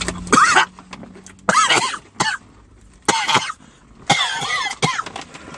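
Repeated harsh coughing fits from a person eating hot honey food: several loud, raspy bursts in quick succession with short gaps between them, close to the listener, with a faint background hum.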